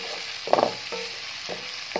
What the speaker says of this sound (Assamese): এতিয়া এইখিনি মই ভালকৈ আকৌ লৰাই ল'ম ধুনীয়াকৈ চাৰিওফালে মশলাখিনি যাতে মাছখিনিত লাগে